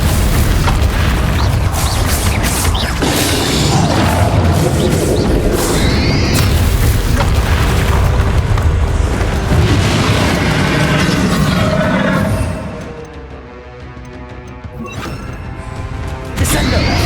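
Bombarda spell explosions in Hogwarts Legacy: loud, dense blasts and crashing debris layered over a busy battle soundscape, easing into quieter rumbles near the end.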